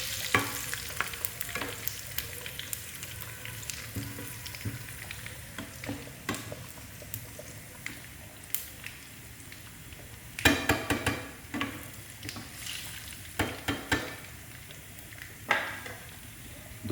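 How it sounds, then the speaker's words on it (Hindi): Garlic and cumin seeds sizzle in hot oil for a masoor dal tempering while a spoon scrapes and stirs the pan, with steady frying hiss and irregular clinks. "ज़ीरा भी आपने साथ में इसके अंदर अच्छी तरीके से भून देना है।"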